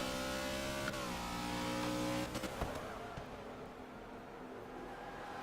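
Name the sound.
Holden V8 race car engine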